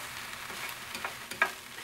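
Onion and garlic, seasoned for a picadillo, sizzle softly in a pan with a faint steady hiss and a few light stirring clicks near the end.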